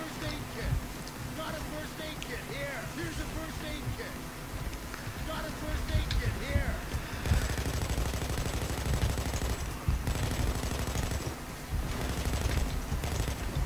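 Gunfire in the video game PayDay 2 sounds as repeated bursts and rattling shots over continuous game noise, with someone talking over the action.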